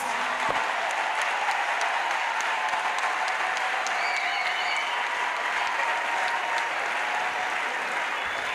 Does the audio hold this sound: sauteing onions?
no